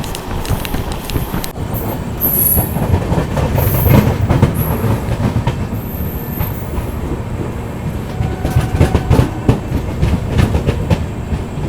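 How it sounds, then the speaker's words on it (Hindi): The Lucknow Mail express train arriving at Hapur Junction at night: loud, continuous rumble of rail cars with clickety-clack wheel beats and high wheel squeals, heard close up with no talk. "अब कुछ ही देर में अपनी ट्रेन हापुड़ जंक्शन पर अराइव करने वाली"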